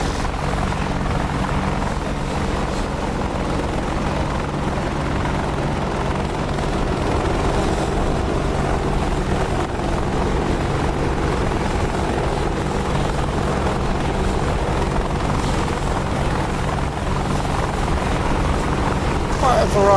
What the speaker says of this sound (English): Nice bit of helicopter flying there by Undead.